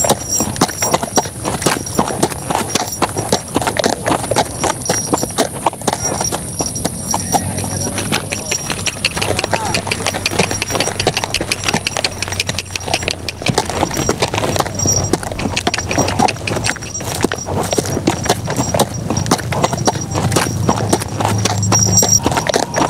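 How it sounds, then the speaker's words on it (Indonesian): Hooves of a tame village horse clip-clop steadily and close for the whole stretch, with a whinny rising over a constant background hiss and rumble. "kuda paling jinak di kampung ini"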